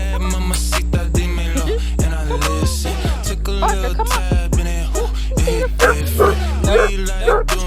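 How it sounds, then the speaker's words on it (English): A dog barking at a dog park, repeated sharp bow-wow barks and yips close to the microphone over a background of music, with someone talking between the barks. "See, now he barking at you."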